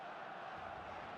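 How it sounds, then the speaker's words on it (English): Stadium crowd at Camp Nou in the eFootball video game, a steady dense roar of many voices filling the background, even and sustained without clear peaks. "Expectations rising, evidently the crowd hoping to be treated to a special contest."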